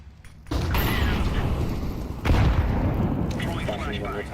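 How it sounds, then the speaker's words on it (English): A flashbang thrown in a video game sets off a loud, sustained booming rumble after a brief quiet start, followed by a second heavy blast and ringing, clattering debris. "Throwing flashbang."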